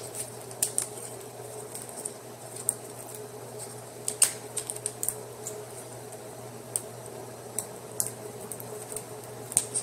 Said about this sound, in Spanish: tengo tamarindo, vamos a sacar la cáscara